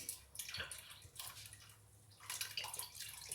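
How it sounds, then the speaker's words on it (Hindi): Water poured into a cooking pot of rice for carrot rice pudding, a broad splashing gush in two bursts with a short pause between, close and fairly steady. "थोड़ा सा पानी भी डालूँगी।"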